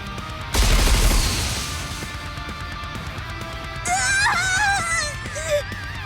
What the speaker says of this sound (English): Fire the anti-aircraft guns.